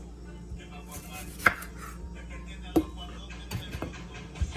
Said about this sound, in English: With our onion, what we're going to do is make sure that we cut the ends off.